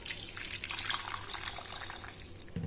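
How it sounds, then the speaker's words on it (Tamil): A soft, steady trickle of water splashes into a cooking pot, quiet and continuous throughout. "கொஞ்சமாக தண்ணி ஊற்றிக்கலாங்க."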